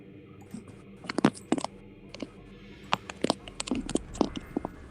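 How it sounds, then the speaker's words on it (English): Sharp clicks and taps from someone handling a microphone and desk gear during an online tabletop game session, arriving in irregular bursts of close, crisp knocks over a low background hiss. "you are clicking and clacking so hard with that mic"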